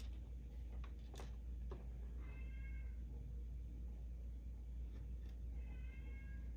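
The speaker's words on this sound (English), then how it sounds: "I've got an unhappy kitty cat" An unhappy pet cat meows twice, faint and plaintive, its calls spaced a few seconds apart over a steady low indoor hum.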